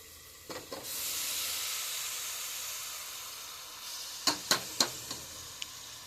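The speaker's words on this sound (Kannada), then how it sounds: "ಮಿಕ್ಸ್ ಮಾಡ್ಕೊಂಡು ಬಳಕ ಇದೇನು ಮಟನ್ ಐತಲ್ರಿ ಇದ್ರಾಗ ಹಾಕ್ಕೊತೀನಿ" Mutton keema masala hisses and sizzles steadily in a hot pan, with a few sharp scraping clicks of stirring near the end.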